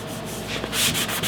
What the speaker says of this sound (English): If it's rough, that just means I need to sand it